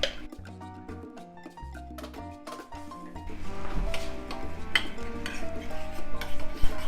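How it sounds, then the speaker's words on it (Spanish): Chipotle sauce being mixed with mayonnaise in a bowl, a run of close clinks and scraping stirs from a utensil over light background music, growing busier toward the end. "Mezclamos muy bien y probamos."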